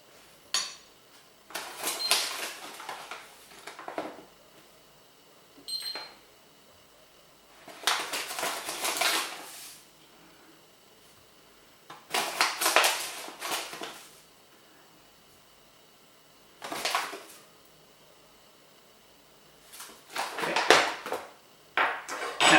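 Coarsely ground coffee spooned into a French press, heard as a series of separate bursts of scraping and clinking from a metal spoon against glass, each lasting about a second, with short pauses between them and no talking.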